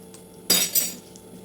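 A spoon clinks against a bowl as pakodi batter is mixed with hot oil, giving two close, sharp metallic strikes with a short scrape between them. The kitchen is otherwise quiet.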